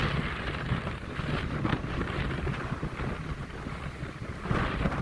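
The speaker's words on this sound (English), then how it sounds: "It's getting very, very windy." Strong cyclonic wind storm at Semaphore jetty in Adelaide, South Australia, roaring steadily and buffeting the microphone in loud continuous gusts with no break.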